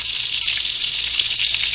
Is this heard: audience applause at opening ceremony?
no